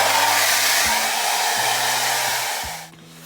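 A hair dryer blows steadily and loudly in a camper van at night, powered from a portable battery, its airflow wavering slightly before cutting off near the end.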